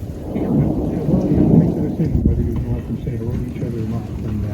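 Deep, rolling thunder from a supercell storm rumbles continuously under steady rain while a voice talks over it, loud and close, in the Cariboo region of Canada.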